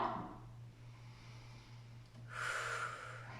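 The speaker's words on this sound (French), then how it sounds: "On prend des grandes respirations." A deep breath drawn in and let out during a yoga session, soft airy rushes at the start and again near the end, close and unaccompanied by talk over a steady low hum.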